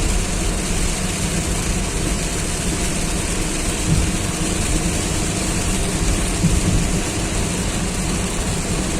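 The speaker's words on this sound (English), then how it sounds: "rains have further intensified" Steady, dense downpour roaring continuously with a low rumbling undertone, loud and unbroken throughout.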